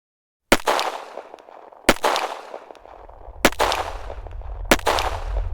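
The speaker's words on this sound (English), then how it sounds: "Gunshots rang out, followed by thudding boots." Four sharp gunshots ring out, spaced a second or more apart, each with a ringing tail that fades before the next.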